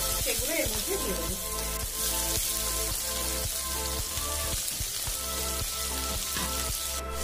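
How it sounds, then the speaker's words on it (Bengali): Thinly sliced onions frying in hot oil for a restaurant-style fish curry, a dense steady sizzle with crackling pops throughout, close and fairly loud. "পেঁয়াজগুলোকে দিয়ে একটু ভেজে নেবো।"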